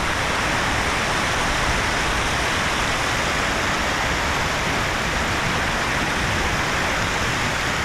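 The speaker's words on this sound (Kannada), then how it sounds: "ನೋಡಿ ಬಚ್ಕೊಂಡು ಹೋಗ್ತಾ ಇದೆ ನೀರು" Water rushes over the Ramaswamy dam near Mandya in a steady, loud, unbroken roar of broadband noise, with no talk.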